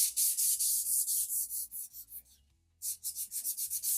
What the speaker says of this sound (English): I'm gonna give it a little bite by sanding it